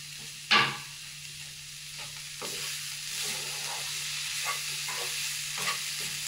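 Paneer cheese dropped into a hot pan and fried, a sharp initial hit followed by a steady sizzle and repeated stirring scrapes, close and fairly quiet, with no talking.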